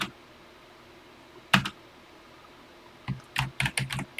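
Computer keyboard keys are pressed as a joystick in the Classic99 TI-99/4A emulator: one isolated tap, then a quick cluster of several clicky keystrokes, close and crisp in a quiet room.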